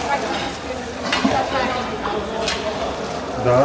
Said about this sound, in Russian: Чеснок тоже жарится.